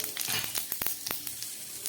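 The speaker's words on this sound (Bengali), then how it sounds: "আলু ভাজার তেলের মধ্যে আমি দিয়ে দিচ্ছি একটা তেজপাতা, দুটো শুকনো লঙ্কা, আর দিয়ে দিচ্ছি একটু গোটা জিরে ফোড়ন" Bay leaf, dried chillies and whole cumin sizzle in hot oil left over from frying potatoes, with a steady close crackle broken by sharp spitting pops.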